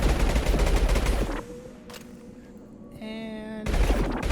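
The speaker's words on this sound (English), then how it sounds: "Let's get some incendiary shots over here on that." Incendiary gunshots in the Mass Effect 2 video game, a dense burst of rapid gunfire that cuts out, a short pause with a faint tonal beep, then firing resumes.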